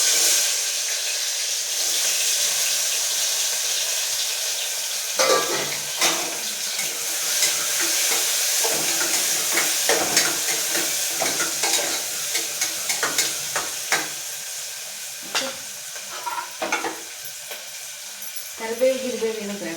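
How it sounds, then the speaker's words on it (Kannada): Mustard seeds and onion fry in hot oil, a steady sizzle broken by spattering crackles and stirring scrapes that grow busier midway, close and moderately loud, with no talk. "ನಾವು ಇದಕ್ಕೆ ಸ್ವಲ್ಪ ಸಾಸಿವೆ ಹಾಕೋಣ, ಆಮೇಲೆ ಈರುಳ್ಳಿನೂ ಹಾಕೋಣ"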